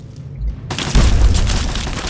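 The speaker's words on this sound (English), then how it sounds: "Oh, let's just throw a frag grenade for those guys." A frag grenade goes off in Fallout 3 with a sudden, loud, booming blast, its deep rumble rolling on for more than a second. A quieter stretch comes before it.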